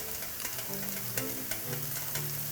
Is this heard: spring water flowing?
no